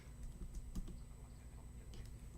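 Soft clicks of a computer keyboard being typed on, a handful of scattered keystrokes heard faintly and up close, with no talking.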